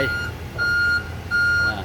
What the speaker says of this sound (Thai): แจ้งเตือนเวลาเดินครับ เดินหน้าถอยหลังระบบเซฟตี้